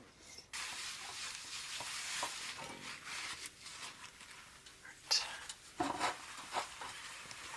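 A metal spatula scrapes food across a smooth cast iron pan, making soft broadband rasping strokes at low volume with a few sharper scrapes near the end.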